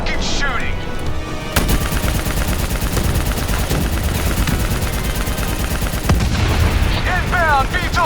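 Heavy automatic gunfire rattles in Call of Duty: Black Ops 3, sustained machine-gun bursts with loud impacts over several seconds, while voices shout over the shooting.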